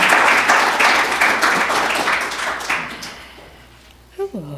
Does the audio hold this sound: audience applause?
yes